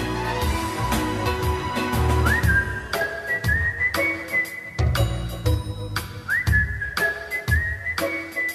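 A person whistles a melodic tune with rising slides and held notes over backing music with a steady beat, the whistle bright and prominent throughout.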